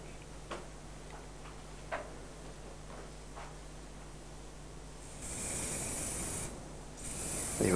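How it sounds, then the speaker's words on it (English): Pastel fixative sprays onto a pastel drawing of a bee-eater bird in steady, close hissing bursts, preceded by faint ticking. "I want to spray it out that way, away from me."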